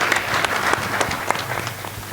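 Audience clapping at a Hindi kavi sammelan poetry gathering, a moderate burst of applause with some distinct individual claps standing out, fairly close.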